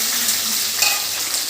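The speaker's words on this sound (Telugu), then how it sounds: "గోల్డెన్ బ్రౌన్ కలర్ వచ్చేలాగా వేయించుకోవాలి" Chopped onions sizzling in hot oil in a pan for homemade chicken fry, a steady close crackle with a brief stir partway through and no talking.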